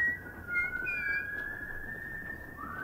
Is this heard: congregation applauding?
no